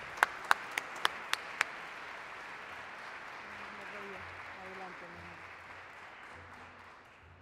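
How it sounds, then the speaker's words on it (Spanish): A few loud, sharp claps ring out close by, followed by softer, scattered applause from a crowd welcoming a speaker at a cantata for Hugo Chávez in Washington DC. Faint voices murmur underneath as the clapping fades. "Por favor, recibámoslo con un aplauso."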